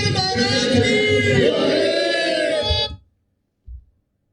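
A large crowd of devotees tied to the Satlok Ashram management committee raises loud religious slogan chants in unison, a dense sustained roar of voices that cuts off abruptly, followed by a brief low thump.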